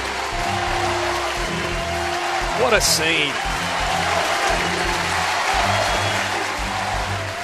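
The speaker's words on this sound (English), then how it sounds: "Now the whole stadium's cheering." A baseball stadium crowd at an SEC championship game roars steadily as a broadcaster talks over it, the dense cheering rising briefly in the middle before holding at a constant level.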